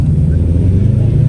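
Car engine fitted with a big blow-off valve, a steady loud low rumble filling the moment with no distinct whoosh or hiss burst standing out.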